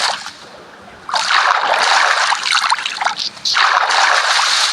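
Flowing water in Minecraft, with a splashing, trickling wash that starts softly and then swells into two louder bursts of rushing water.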